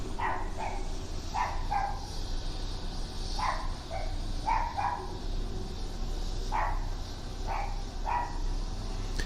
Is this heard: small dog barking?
yes